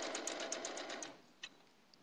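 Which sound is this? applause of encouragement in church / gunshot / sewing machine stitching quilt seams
sewing machine stitching quilt seams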